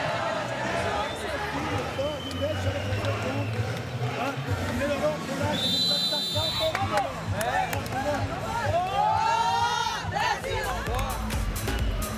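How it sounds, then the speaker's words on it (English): A crowd at a Paralympic women's sitting volleyball bronze medal match between Canada and Brazil roars and cheers continuously in a large arena, with whistles, shouts and rising swells of excitement around loud amplified voices. "Well, the crowd enjoying themselves here."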